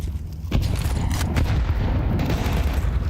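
Rifle fire in a professional Counter-Strike match, loud, booming shots over a dense rumble of battle noise, with a sharp report near the start followed by further heavy blasts.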